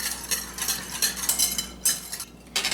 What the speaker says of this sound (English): Let's whisk that together.